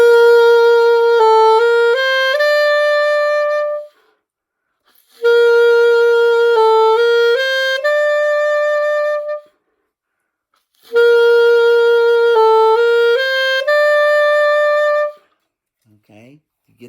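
The measure 12 rhythm from a slow middle school band etude, played three times as a clean sustained wind-like tone stepping through a short rhythmic figure, with silent gaps between.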